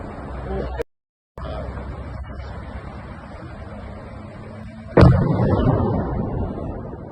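A sudden heavy explosion near a combined heat and power plant cuts through a low background rumble, followed by a lingering roar; a brief dead silence occurs earlier.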